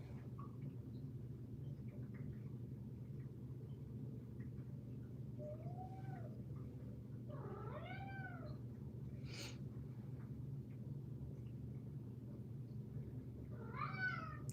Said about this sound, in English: Cat's whining to get back in.